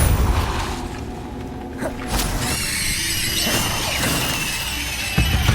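Depulso spell cast in the video game Hogwarts Legacy, a loud burst of magical impact with crashing, shattering and squealing layers over a dense game soundscape, with a second hit near the end.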